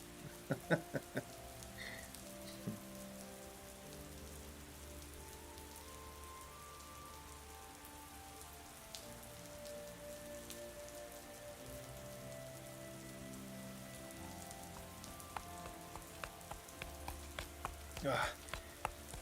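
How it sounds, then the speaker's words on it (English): Steady rain pattering on surfaces in a fantasy role-play audio drama, a soft continuous hiss with scattered drips and faint clicks, heard alone without talk. "Finally, a chance to get out of this accursed rain."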